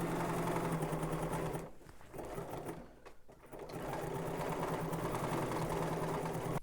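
A sewing machine stitches a pocket seam on a garment with a fast, steady mechanical whir that dips and pauses twice in the middle before resuming, close and with no voices.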